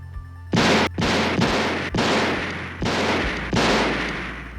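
Gunshots in a Halloween II (1981) film scene: six loud, heavy blasts fired in quick succession, each with a sharp onset and a long booming decay, no voices.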